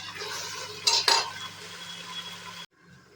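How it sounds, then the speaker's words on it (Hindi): Marinated boti meat pieces go into a hot cooking pan for Lucknowi boti kabab, with steady sizzling, utensil scraping and a couple of louder metal clatters, before the sound stops suddenly. "और अब हम इसमें डाल देंगे जो हमने मैरिनेट किया था अपनी बोटियों को"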